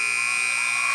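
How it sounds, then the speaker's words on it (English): A loud, steady electronic buzzer sounds the end of a girls JV high school basketball game, one continuous harsh tone that carries through the whole moment. "There goes the buzzer."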